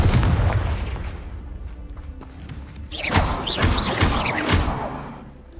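Bombarda and Confringo spell blasts from Hogwarts Legacy go off in a cluster of loud booming bursts with crackling debris over the second half, after a low rumbling lead-in.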